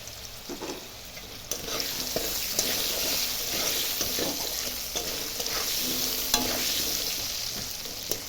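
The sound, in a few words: potatoes frying in a pan with salt and turmeric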